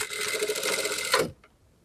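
Sewing machine stitching a seam on a 38-size blouse, a steady dense whir for just over a second, ending abruptly, followed by near silence.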